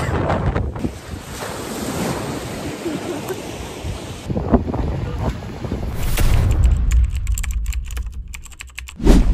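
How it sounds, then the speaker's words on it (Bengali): Strong wind gusts buffet the microphone on a mountaintop about 3,000 feet above the sea at Sorrento, Italy, a loud continuous roar with rumbling surges that swell toward the end. "3000 ফিট উপরে কি পরিমাণ বাতাস!"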